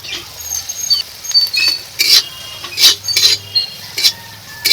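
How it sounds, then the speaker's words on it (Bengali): A spoon scrapes and clinks against a pan as chilli powder, turmeric, salt and tomato fry into a masala for chicken keema, in loud, repeated close strokes with light sizzling patter between them. "এখন মশলাটাকে ভালো করে কষিয়ে দেবো"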